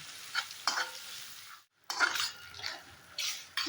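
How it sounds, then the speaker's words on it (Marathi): Tomatoes fry over a medium gas flame in a pan for traditional stuffed eggplant, with a steady sizzle broken by close, repeated scraping stirs and one brief pause. "आता ह्याच्यातच पाहे टोमॅटो घालून दिले आहे तर गॅस थोडा मध्यम करायचा म्हणजे सर्व परतलं जाईल"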